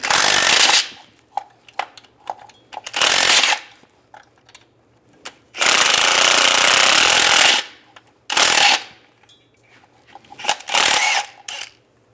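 Impact wrench with a 15mm socket driving out transmission mount bolts on a 2007-2013 Chevrolet Silverado, loud hammering bursts of a second or two each, separated by quiet gaps.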